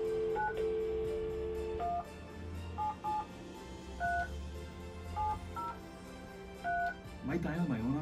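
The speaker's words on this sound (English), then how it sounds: "Am I dialing my own number?" Touch-tone telephone dialing beeps on a cell phone while calling a contest winner, a series of short dual-tone presses spaced irregularly over a steady low hum, with a voice briefly heard at the end.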